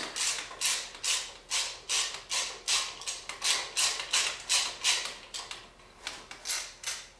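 A hand ratchet works on the bolts of a car's radiator braces, clicking in rapid bursts, with about a dozen evenly repeated strokes, each a short run of close, bright ticks.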